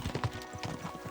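Horse hooves clip-clop in a quick, regular galloping rhythm, close but fairly quiet, from riding in Kingdom Come: Deliverance 2.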